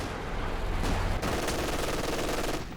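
Rapid machine gun fire from Company of Heroes 2 in a 2v2 match, sounding as a dense continuous rattle of shots across the whole clip, loud and close and mixed with other battle noise.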